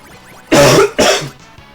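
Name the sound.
cough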